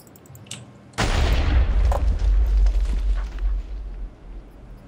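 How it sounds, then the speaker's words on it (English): A Mario bomb explodes in a Minecraft party minigame, bursting suddenly after a quiet lead-in into a loud, deep, rumbling blast that roars for several seconds before fading. "Look at the Mario bomb."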